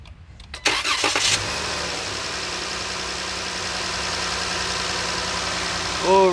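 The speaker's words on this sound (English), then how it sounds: "Please start engine." A Dodge, Chrysler, Jeep or Ram 3.6-liter Pentastar V6 cranks and catches after a moment of quiet, then settles into a loud, steady idle up close that holds for several seconds.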